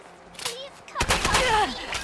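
Gunfire in the video game Fallout London: a sharp shotgun blast followed by a rapid cluster of loud, echoing shots, with a voice speaking over the firing.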